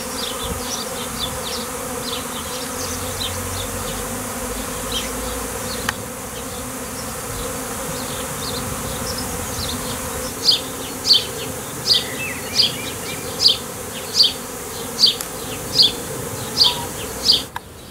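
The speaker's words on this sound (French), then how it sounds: "On voit une grappe d'abeilles." Honey bees swarm and buzz at a hive in a dense, continuous drone, with sharp clicks and ticks repeating through the second half.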